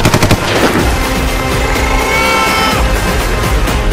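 A loud, dense burst of machine gun fire from the action film KGF, continuous rapid shots with booming low end filling the whole stretch without pause.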